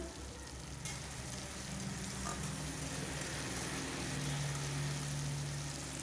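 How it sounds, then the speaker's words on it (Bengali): Chopped tomato frying in a pan for a chicken curry, giving a steady, close, even sizzle that stays constant throughout with no talking. "টমেটোটা দিয়ে আমি আবার 2 মিনিট মতন ভেজে নেব যাতে টমেটোটা ভাজা হয়ে যায়"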